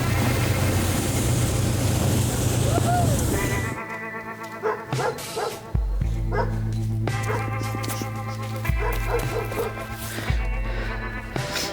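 Dogs barking and yipping outdoors at a relaxed camp, with a few short barks scattered over a steady low hum and background sounds.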